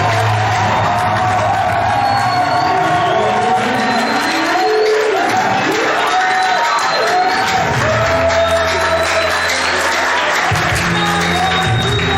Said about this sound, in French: Les acclamations ne suffisent pas.